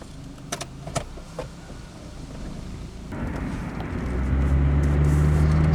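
A 1992 Honda Accord 2.2L at operating temperature pulling away on the road: quiet cabin clicks at first, then a steady engine drone that grows louder and rises in pitch as it accelerates.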